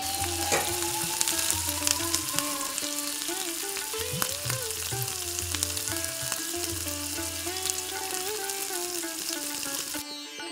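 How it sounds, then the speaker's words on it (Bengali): Palm fruit fritters deep frying in hot oil, stirred with a spatula: a steady dense sizzle fills the whole stretch, with soft scraping stirs and a faint tonal hum underneath. "এবার খুন্তি দিয়ে নাড়িয়ে চাড়িয়ে বড়াগুলোকে লাল লাল করে ভেজে নিচ্ছে।"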